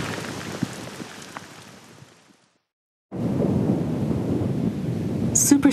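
A powerful supercell thunderstorm over Tornado Alley sends out deep, rolling thunder with rain, a long rumble that dies into a brief silence before a loud, sustained roar of thunder and downpour returns.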